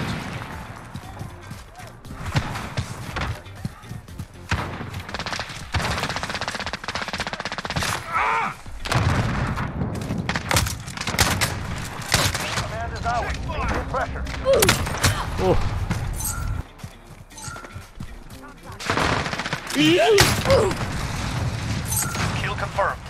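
Rapid shotgun blasts from the video game Modern Warfare, booming in bursts across a busy firefight, mixed with game effects and voices talking throughout.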